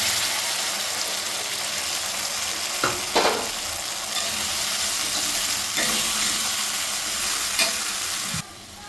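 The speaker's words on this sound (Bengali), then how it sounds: "কাঁচা লঙ্কা বাটা আদাটা ভালো করে ভেজে নিয়ে" Green chili and ginger paste frying steadily in a hot pan, a loud continuous sizzle with a few brief scrapes of stirring, ending with a slight drop in level.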